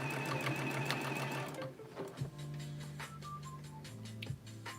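Sewing machine running steadily at close range in a home sewing session, its motor hum joined by a fast mechanical ticking, pausing briefly and restarting, with no talk over it.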